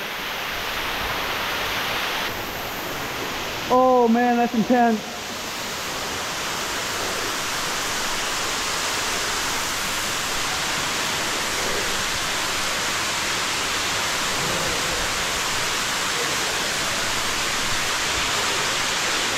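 A waterfall roars inside a cave, a steady, dense broadband rush that fills the whole stretch close by, with a brief exclaiming voice near the start.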